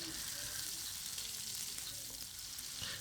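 Onion and finely chopped tomato frying in a pan for biryani, a steady loud hiss of oil sizzling without pause, heard close up.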